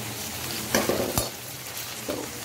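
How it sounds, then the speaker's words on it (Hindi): Onions frying and turning brown in a kadhai, a constant sizzle broken by a few sharp scrapes and clinks of stirring. "नाउ यू कैन सी प्याज का कलर थोड़ा थोड़ा ब्राउन होने लगा है।"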